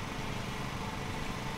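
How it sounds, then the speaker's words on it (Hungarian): A lawn mower engine runs in the Lawn Mowing Simulator video game, a steady, dense droning hum that stays close and constant without a break. "De megindult ez a fűnyíró, te jó isten."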